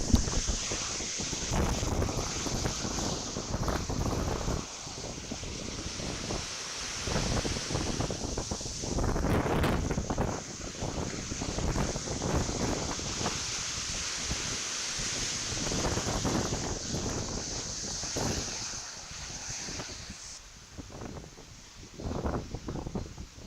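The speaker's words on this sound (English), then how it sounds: "the wind is really picking up now" Strong hurricane wind roars continuously from Hurricane Beryl near anchored yachts, buffeting the microphone with loud, gusting rumble and hiss that swells and eases throughout, with occasional watery splashes.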